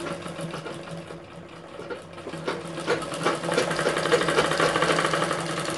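Sewing machine stitching along the edges of a princess-cut cup blouse, a close steady motor hum with rhythmic needle chatter that builds slightly louder toward the end.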